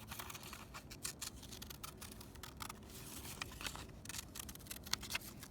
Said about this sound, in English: So just cutting around.